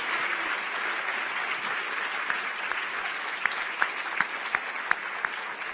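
An audience at a science-communication competition final gives a sustained round of applause, a broad even roar of many hands with a few sharper individual claps standing out near the end.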